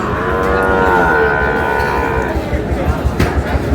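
Shahiwal bulls and calves mooing at a cattle market in Khulna, a loud, close, drawn-out low moo that fades into crowd noise and bumps.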